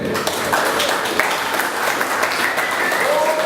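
An audience applauds at a jazz festival launch for Birmingham, Solihull and Sandwell, held at Park Regis. The clapping is steady and fairly close, with a faint voice mixed in.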